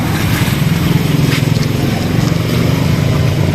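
A Honda Wave 100cc motorcycle engine fitted to a bicycle idles steadily at close range, a rough low putter running continuously without pause.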